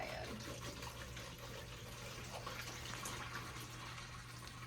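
Liquid pours steadily into a container in a nursing skills lab, a continuous soft gush with no talk over it.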